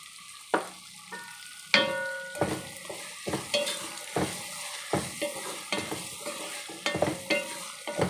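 Food frying in a pan with turmeric powder just added, stirred in a series of distinct scraping strokes over a soft sizzle, close and clear, with no one speaking.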